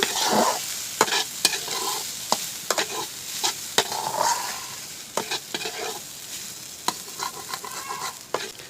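Egg momo filling with a splash of lime juice being stirred in a pan: repeated sharp scraping and tapping strokes at an irregular rhythm over a soft sizzling bed, close and fairly quiet, no voices.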